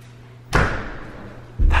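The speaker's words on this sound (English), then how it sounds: "The door just slammed." A door slams sharply at about half a second with a heavy thud and a brief ringing decay, followed by a second loud impact near the end, heard indoors at night with no talk.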